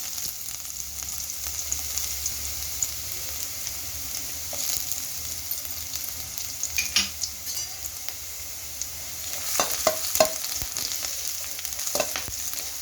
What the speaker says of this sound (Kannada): ಈಗ ಎಣ್ಣೆ ಚೆನ್ನಾಗಿ ಬಿಸಿಯಾಗಿದೆ. ನಾವು ಕಟ್ ಮಾಡಿಟ್ಟಿರೋಂಥ ಬೆಳ್ಳುಳ್ಳಿ ಶುಂಠಿ ಹಾಕ್ಕೊಳ್ಳಿ.